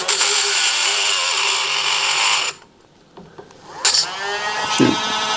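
A power tool cuts a slot into a broken screw in a door lock, a loud steady high-pitched grinding whine that stops partway, then brief rattling bursts and handling noises as the tool restarts.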